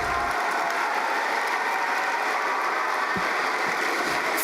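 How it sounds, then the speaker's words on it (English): A large arena crowd at a Science Olympiad opening ceremony applauds teams as they enter, producing a dense, continuous wash of clapping that holds steady at a loud level throughout. "Please show your support with your applause."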